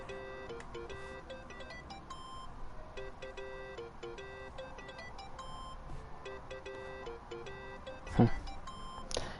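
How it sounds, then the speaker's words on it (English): A phone rings in the Yakuza: Like a Dragon video game, a repeating electronic ring of short beeping bursts that runs steadily throughout at moderate loudness, with a brief louder knock near the end. "I think that's your phone."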